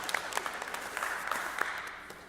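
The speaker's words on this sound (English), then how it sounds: "I think we can clap" Light, scattered applause from a small audience at an LGBTQ+ intergenerational dialogue event, with distinct individual claps over a soft background wash, fairly quiet and distant.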